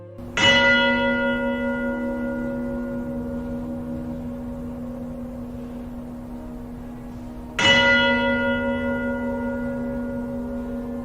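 Two deep church bell strikes ring out several seconds apart, each with a sharp onset and a long, slowly fading resonant hum inside a large stone structure.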